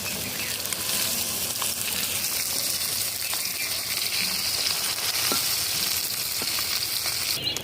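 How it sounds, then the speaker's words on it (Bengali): Pieces of fali fish frying in a pan, a steady close sizzle and spatter of hot oil running throughout with a few faint clinks, no voices. "একটু মাছ ভাজা করা আমার হয়ে গেল"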